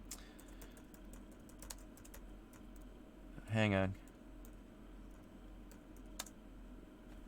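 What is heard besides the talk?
typing on a computer keyboard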